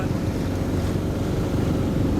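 A sailboat motoring under engine power on a 20.6-nautical-mile passage into a harbour channel, giving a steady low engine drone mixed with wind and water rush, continuous and fairly loud with no talk.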